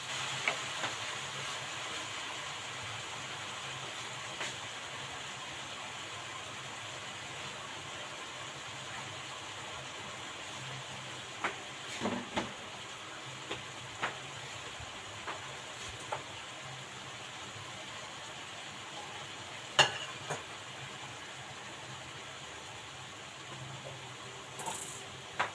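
Bean sprouts fry with a steady low sizzle in a pan while occasional sharp clicks from stirring break through, faint and continuous over the whole stretch.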